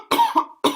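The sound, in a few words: cough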